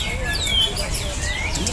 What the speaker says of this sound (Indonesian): pertempuran burung murai batu muda.